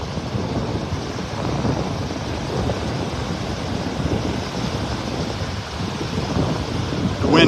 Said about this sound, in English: The wind blowing right into my face now. Blowing pretty hard coming out of the north.